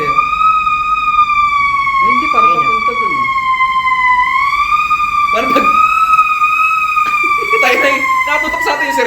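A fire truck siren holds a steady, loud, slowly wavering wail throughout, close by, while people talk over it in short bursts.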